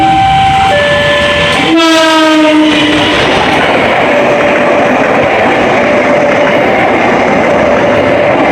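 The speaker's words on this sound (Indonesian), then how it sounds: "itu adalah K414 atau KA penerangan, jalan penerangan" An Indonesian K414 inspection train passes close by, a loud horn blast with a falling pitch at the start followed by a steady roar and rumble of the train continuing to the end.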